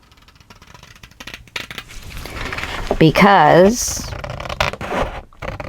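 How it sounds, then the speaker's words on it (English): Scissors snip through paper for a handmade mini scrapbook album, giving a few scratchy, rasping cuts close by while a person talks over them. "I guess I'm going to use my scissors to cut"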